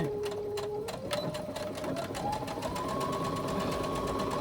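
A sewing machine runs steadily while stitching a seam on a hobo shoulder bag, its motor hum rising in pitch partway through as the needle chatters in a rapid, continuous rhythm, close and alone.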